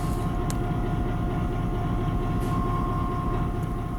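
A locomotive in the Train and Rail Yard Simulator video game gives off a continuous, even engine rumble with a steady tonal hum and a few faint clanks, with no talk.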